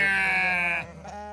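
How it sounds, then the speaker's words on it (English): A ewe gives a single loud, close bleat from a flock of 61 ewes on a farm, wavering and sustained before breaking off into a shorter, fainter call. "is the 61 ewes, there's 61 of them here"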